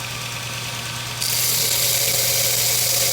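A ribbed grinding wheel hollow grinds a razor blade, giving a loud, steady motorized whir with a low hum that brightens into a harsher, hissing grind partway through, continuous and close.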